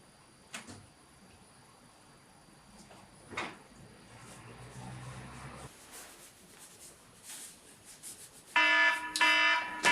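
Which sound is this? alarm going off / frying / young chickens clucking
alarm going off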